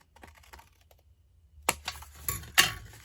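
Cardstock being cut for a stationery box, heard as a few sharp, crisp slicing snips after a quiet start, close and fairly soft with no talking.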